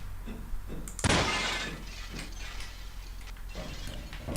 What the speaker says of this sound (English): Destroy feet of solid glass with 1 bullet.